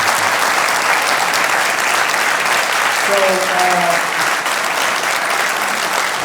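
A crowd applauds an author introduced on stage at a literary talk, dense steady clapping filling the room, with a voice speaking briefly over it.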